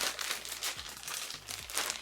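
A plastic bag from wig packaging crinkles and rustles close by in irregular bursts, with no other sound around it.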